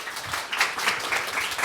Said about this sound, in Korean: 발표자님을 박수로 모시겠습니다